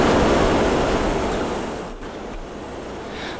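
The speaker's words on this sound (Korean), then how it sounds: "아니 그런데 조용해야 할 도서관에서 웬 시끄러운 바람소리?" Steady broadband wind-like masking noise from ceiling-mounted speakers spaced evenly through a quiet library, a continuous rushing hiss that stays loud and dips only slightly partway through, with no talk.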